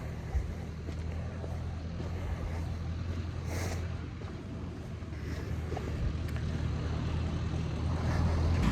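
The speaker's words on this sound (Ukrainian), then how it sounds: "поки трактор проїде, щоб не було так голосно, бо шумить падлюка" A tractor drives past outdoors, its engine a steady low rumbling drone that gradually grows louder, mixed with gusty wind noise against the microphone and faint background sounds.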